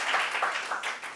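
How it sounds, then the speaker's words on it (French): An audience applauds Madame Koné on a television set, a steady patter of many hands clapping at moderate loudness with no voices over it. "Applaudissez, s'il vous plaît,"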